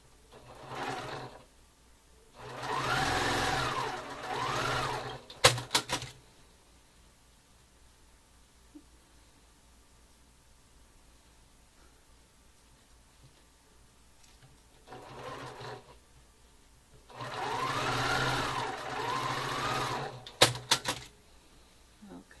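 A sewing machine joins quilt squares to a black fabric strip in two bursts of steady, rapid stitching, with quiet gaps and faint handling noises between.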